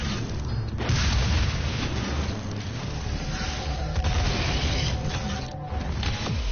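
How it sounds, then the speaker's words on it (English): Rocket launcher in the game Doom firing and exploding, loud repeated booming blasts and crashing impacts over a dense low rumble, continuous and close for several seconds, with no speech. "Rocket launcher."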